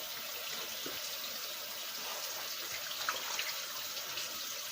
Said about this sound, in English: Now I'm fit to just let them, you know what I mean, rinse them real good.